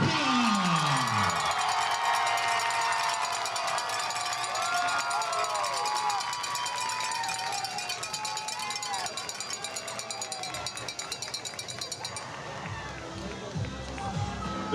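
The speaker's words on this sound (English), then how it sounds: "Let's give them a loud round of applause." A large crowd at a high school football game at Memorial Stadium cheers and applauds the homecoming court, a sustained distant roar with scattered shouts, whistles and bright ringing noisemakers, an announcer's amplified voice echoing over it.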